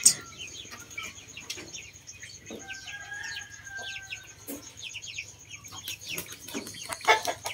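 An unvaccinated backyard chicken clucks in short, close bursts, with other fowl calling around it and a faint crow-like call drawn out in the middle, over a low steady hum.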